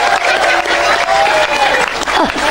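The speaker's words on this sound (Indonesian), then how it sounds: "Tepuk tangan dulu dong." Loud, dense applause from a crowd at an Islamic religious gathering, steady clapping with some voices and a whistle-like tone mixed in, filling the whole moment.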